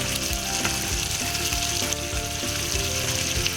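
Mutton karahi spices such as coarse coriander powder and garam masala frying in hot oil, giving a steady, close, loud sizzle with small scraping stir ticks throughout and no talking.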